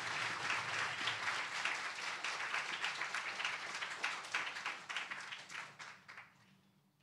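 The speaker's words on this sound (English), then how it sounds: "let us all give our finalists and also our adjudicators another big round of applause" A crowd claps steadily for several seconds, dense and even, then the applause thins out and fades.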